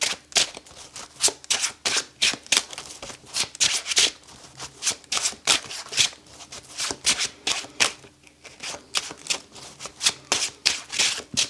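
Tarot cards being shuffled by hand, a long series of crisp, rapid riffling bursts repeating in an uneven rhythm, close and fairly loud with no talking.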